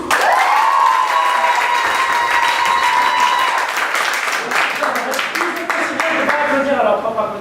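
An audience claps for the improv team Les Caribous at a French improv match, loud continuous applause with crowd noise and a high voice or whistle early on, the clapping thinning slightly toward the end.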